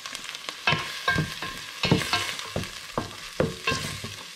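Onions cooking down in a pan with lime and butter, a crackling sizzle with frequent spatula scrapes and knocks at an irregular pace, close and moderately loud, no one speaking.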